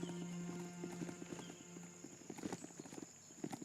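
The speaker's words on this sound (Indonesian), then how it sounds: "Pakai kuda aja lah." Hooves of a horse-like mount gallop in the video game Biomutant, a steady fast clip-clop rhythm over a sustained musical drone, growing busier toward the end, moderately close with no talk.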